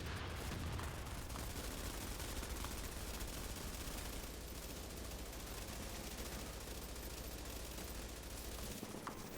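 Rapid automatic gunfire from a shooter video game, dense overlapping bursts and fusillades running almost continuously and loud throughout, with no talking.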